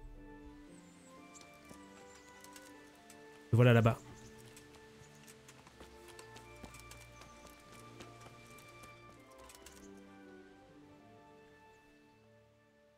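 In the medieval game Kingdom Come: Deliverance, a horse's hooves clip-clop in a loose, uneven patter over a quiet ambient background, with someone speaking briefly and one loud burst early on.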